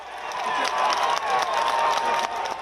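A crowd at a Donald Trump campaign rally erupts into loud, sustained cheering. Shouts and clapping blend into a dense roar that carries through the whole moment.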